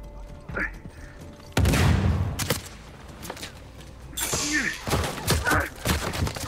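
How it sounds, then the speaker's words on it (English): Gunfire and heavy thuds in the Uncharted 4 multiplayer game, a loud burst landing mid-clip and more impacts near the end, mixed with game effects and brief voices. "Who's shooting that?"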